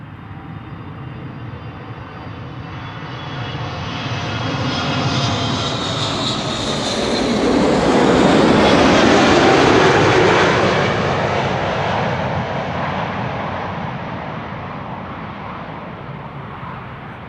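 Delta Airlines Airbus A330neo arriving at Amsterdam Schiphol, a broad jet engine roar that swells as the aircraft approaches, peaks loudly overhead, then fades away, heard alone.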